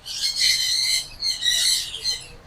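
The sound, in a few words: parrots and sparrows calling at Lahore Zoo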